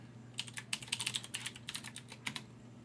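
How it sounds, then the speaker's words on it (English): Someone types a password on a computer keyboard, a run of quick, fairly close key clicks in short irregular bursts over a steady low hum, with no talking. "So, we'll just go ahead and type in a password here."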